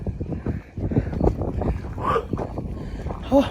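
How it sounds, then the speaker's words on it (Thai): Strong wind buffets the microphone at a seaside mountain campsite, a rough continuous roar with gusty swells, and a few voices talk faintly in the background. "ลมแรงมากเลย"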